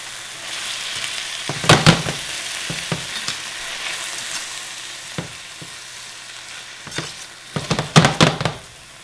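Tomatoes sizzle in a hot pan while being stirred into a pasta sauce for linguini, a steady frying hiss punctuated by several louder bursts of stirring and sizzling near the start and end, with no talking.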